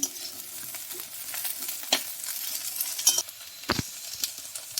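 A spoon stirs okra frying in oil with turmeric powder: a soft steady sizzle runs throughout, broken by a few sharp scrapes and clinks of the spoon against the pan, close and fairly quiet, with no talk.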